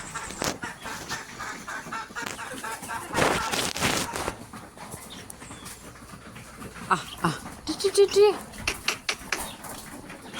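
Chickens clucking and squawking around someone feeding them at 5 a.m., with brief rustling and scattering noises, a voice speaking now and then over the birds.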